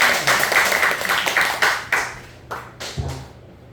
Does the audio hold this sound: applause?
yes